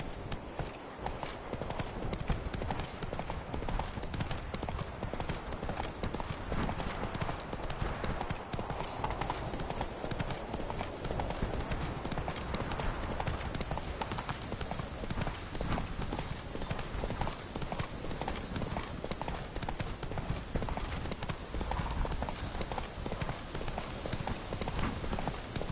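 Video game horse named Roach galloping: a continuous rapid drumming of hoofbeats, steady and close, lasting throughout with no break.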